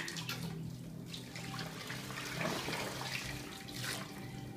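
Water sloshing and splashing as a young child is bathed in a tub, continuous and fairly close, with a brief soft voice or giggle near the middle.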